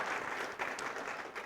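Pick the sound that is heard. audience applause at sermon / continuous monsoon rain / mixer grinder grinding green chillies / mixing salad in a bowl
audience applause at sermon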